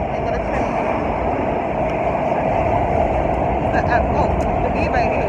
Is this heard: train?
yes